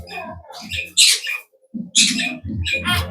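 Two or three sharp, bright myna bird calls ring out close by, squawky whistles separated by brief pauses, with a low murmur of voices between them.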